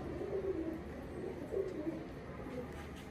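Soft, low coos of Teddy pigeons repeat in short phrases, a few seconds apart, over a steady background hum.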